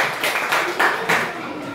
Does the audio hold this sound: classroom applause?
yes